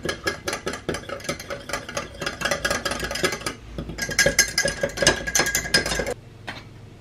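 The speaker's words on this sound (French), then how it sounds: "Un mini fouet de mon batteur, ce sera plus sympa. Et l'œuf." A mini whisk from a hand mixer beats an egg in a rapid, steady rhythm of light metallic clicks and scraping against the bowl, close and continuous, stopping abruptly near the end.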